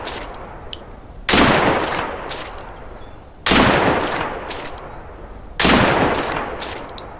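Three loud, evenly spaced Mosin sniper rifle shots in Deadside, each a sharp crack with a long echoing tail, fired about two seconds apart with quiet between.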